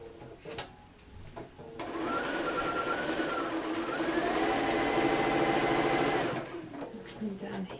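Sewing machine stitching down a seam on a stuffed cushion, a fast steady whirring run of about four seconds that shifts pitch slightly midway, with quieter handling sounds before and after.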